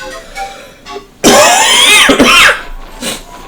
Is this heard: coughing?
yes